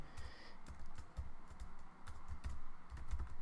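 Keys on a computer keyboard tapped in an uneven, steady run while someone writes code for a Unity 2D platformer game, with close, moderately loud clicks and no talking.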